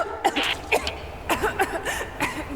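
A character in the video game Rise of the Tomb Raider coughs in a few sharp, close bursts spread across a couple of seconds, with no speech over them.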